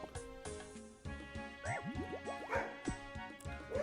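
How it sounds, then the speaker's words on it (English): A puppy gives a run of excited short barks and high yips, some rising into squeaky whines, close by and fairly quiet. "Puppy going crazy"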